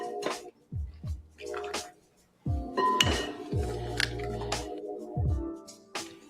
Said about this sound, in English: I want to go ahead and just crack my eggs